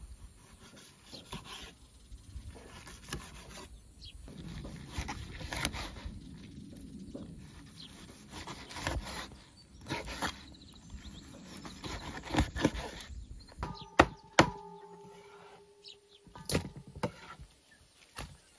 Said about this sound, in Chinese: 把鱼改一下刀，这鱼比较肥，全是肉，